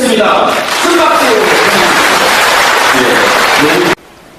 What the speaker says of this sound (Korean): 김성훈 회장님을 박수로 모시겠습니다. 큰 박수